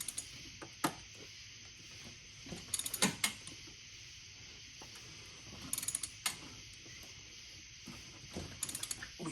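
A BMW N55 engine from an F10 is turned over by hand. Quiet bursts of ratcheting mechanical clicks come in short clusters, separated by near-silent pauses.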